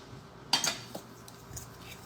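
Fork stirring Christmas pudding sauce in a dish, a couple of quick metallic clinks followed by faint scrapes, close and quiet against a low background hum.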